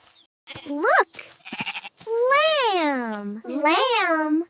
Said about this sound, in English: This is a lamb! Soft lamb.